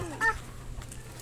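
A chicken clucking briefly and faintly outdoors along a path, a short cluck against low background noise.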